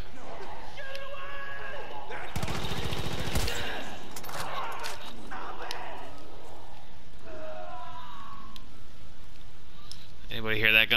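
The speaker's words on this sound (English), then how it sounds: "Anybody hear that gunfire?" A short burst of rapid machine gun fire amid Far Cry 5 game sounds, with people talking over it and a quick rattling burst near the end.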